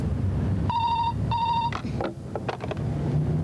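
A telephone rings in two short electronic bursts, followed by a few clicks and handling noises, all fairly close against a steady low hum.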